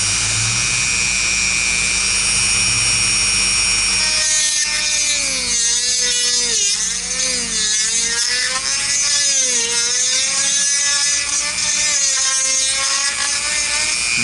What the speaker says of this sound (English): I'm gonna drill a little. I'm gonna make that hole a little bit bigger.